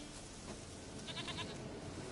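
A goat in The Witcher 3 video game gives a short bleat partway through, faint and set against a steady low background ambience, with no talk.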